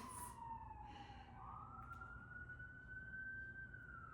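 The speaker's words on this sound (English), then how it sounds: "You might be hearing some sirens." Faint emergency vehicle sirens sound far off across New York City, one tone dipping and then climbing into a long steady wail over a low hum of distant traffic.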